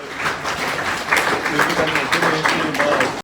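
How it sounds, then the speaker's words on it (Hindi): A room full of people clapping for Dinesh sir during an institute visit, dense steady applause for a few seconds that cuts off abruptly, with a voice speaking over it. "ये की ताली बजेगी दिनेश सर के लिए बस"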